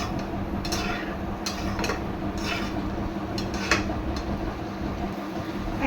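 Taro is sautéed with spices in a pan, a spoon scraping and knocking against the metal in steady, irregular strokes over a constant background hiss.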